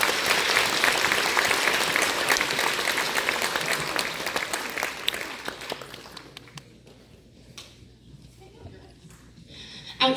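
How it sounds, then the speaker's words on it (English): Audience applause for the altos at a school concert, loud dense clapping that thins and fades toward the end, with a brief burst returning at the close. "Big round of applause for the altos."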